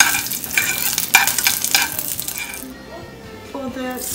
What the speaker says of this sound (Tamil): இந்த மாதிரி கடுகு நல்லா சவுண்ட் வந்துச்சுன்னா கடுகு வந்து இதுவாயிடுச்சு.